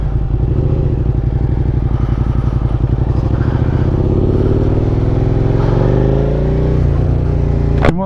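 A Suzuki SV650 motorcycle engine idles close by with a steady, throbbing lope, then swells into a rising rev and drops back down, ending with a sharp clunk.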